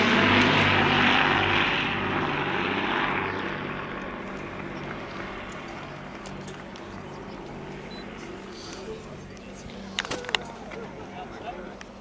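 Propeller warplanes of the Battle of Britain Memorial Flight roaring past at a locomotive naming ceremony, loud at first and then fading into the distance, with crowd noise and a few sharp knocks near the end.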